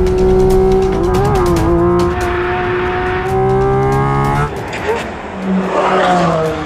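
A Porsche 718 Cayman GT4 RS engine wails at speed on the Nürburgring Nordschleife, loud and close, its pitch rising through the gears with shift dips and some tire noise.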